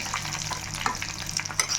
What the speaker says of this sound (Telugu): తాలింపులు ఎండమిర్చి కరివేపాకు నూనె కొంచెం ఎక్కువ వేసుకోవాలండి